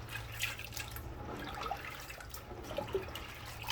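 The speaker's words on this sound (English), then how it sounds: "We're gonna rinse it one more time." Dried beans rinsed under a running tap in a kitchen sink, water pouring and splashing steadily with scattered drips, close and moderately quiet.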